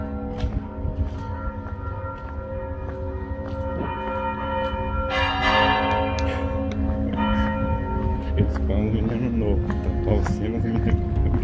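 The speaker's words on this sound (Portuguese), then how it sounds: "Seu sino de meio-dia." A church bell rings at noon in Tiradentes, Minas Gerais, Brazil, with sustained, overlapping tones that swell and linger, while people talk nearby over the ringing.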